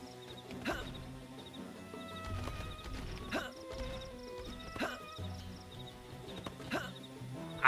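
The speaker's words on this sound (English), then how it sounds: "I hear the big thudding footsteps." Big creature footsteps in the video game Xenoblade Chronicles X: a series of heavy, widely spaced thuds landing roughly every second and a half, set against a steady game music score.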